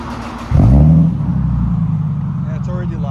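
A 2007 Infiniti G37 fitted with a Z1 Motorsports cat-back exhaust revs once, jumping to a loud, deep rise and fall before settling into a steady, rumbling idle close by.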